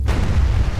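A loud, booming explosion from the polygon-style shooter game ADACA, a dense low rumble filling the short moment with no voices over it.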